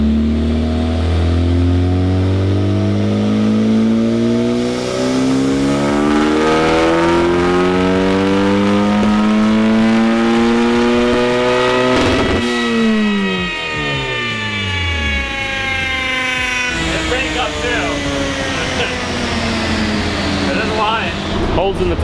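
A turbocharged high-compression 1.6L Mazda Miata engine revs hard on a dyno, its loud, continuous engine note sweeping upward through the gears with rising harmonics, dropping briefly between pulls before climbing again.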